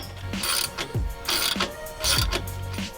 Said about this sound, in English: I will start tightening this